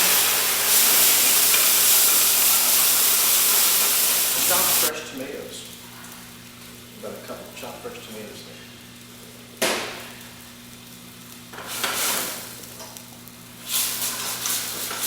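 White wine poured into a hot pan of shallots, a loud bright sizzle that bursts at first then settles into quieter intermittent hissing and bubbling, with flare-ups as the pan is stirred and a person talking.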